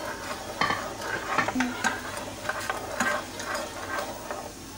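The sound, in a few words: stirring tamarind chutney with salt in a pot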